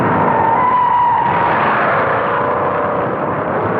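Stock cars racing in the 1960 Daytona 500, a loud continuous engine roar that holds steady with a slight pitch drop, like a pack of cars thundering past on a speedway, no talk.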